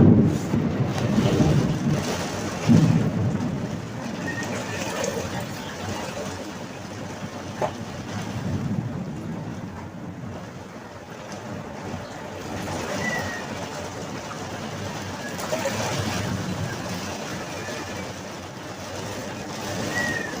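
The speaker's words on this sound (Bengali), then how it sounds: "তোমরা শুধু ঝড়ের আওয়াজ শোনো" Storm wind and rain roar and gust in uneven waves, with a rushing hiss of rain, buffeting the microphone; a voice speaks briefly in between.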